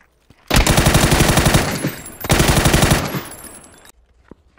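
Video-game gunfire in PUBG during drop shots, fired in two loud sustained automatic bursts of about a second and a half each, separated by a short gap, close and dominant.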